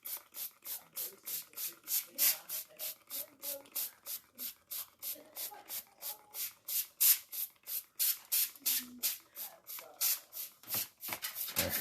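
Cooking spray is applied to barbecue pork ribs in a long series of short, hissing bursts that come in a steady rhythm, some louder than others, with faint talk at times.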